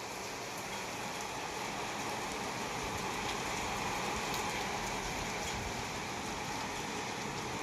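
Steady rain pours down in a dense, even hiss, constant and moderately loud, with no voices.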